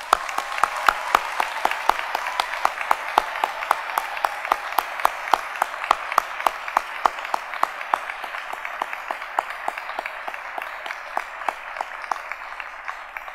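Sustained applause from an audience at a veterinary white coat ceremony, with sharp individual claps standing out at first, then thinning slightly as it continues without voices.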